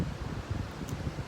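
Wind blows outdoors on a gusty day, making a faint, steady low rumble with soft rustling and no voices.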